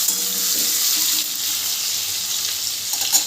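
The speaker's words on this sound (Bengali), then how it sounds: "পনিরের টুকরোগুলো দিয়ে একটু ভেজে নেব আমি" Paneer pieces frying in hot oil, a loud, bright continuous sizzle that holds steady throughout with a small knock near the end.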